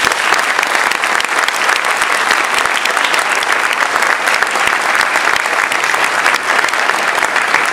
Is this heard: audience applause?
yes